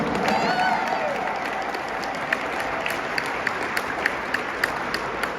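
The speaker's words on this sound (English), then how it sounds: "So if we can give them a round of applause." Audience applause for a municipal conservation corps at an AmeriCorps Day event at the Wisconsin Capitol, a steady wash of clapping with a faint voice briefly at the start.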